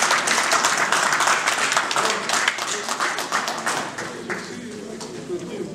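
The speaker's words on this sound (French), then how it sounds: "je lui demanderai si c'est possible de se mettre debout et si nous pouvons l'applaudir" An audience applauds a French embassy representative at a political gathering in Paris, a loud burst of clapping that thins and fades toward the end, with voices talking underneath.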